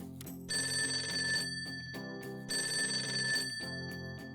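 An in-game telephone in Persona 5 Tactica rings in two electronic bursts, each about a second long and separated by a short pause, loud and clear over a low musical background.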